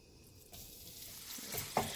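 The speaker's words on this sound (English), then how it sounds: "I'm going to start by cooking the chorizo first." Chorizo hitting hot oil in a preheated pan, a soft sizzle that swells after a quiet start, with a sharp clink near the end and low stirring sounds.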